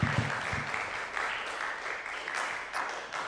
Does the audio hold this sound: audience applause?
yes